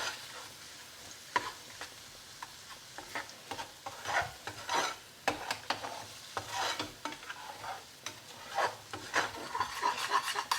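Masala base with Kashmiri red chilli powder frying in a pan for a restaurant-style tofu tikka rezala, with steady sizzling broken by repeated scraping stir strokes, close and moderately loud, no talking.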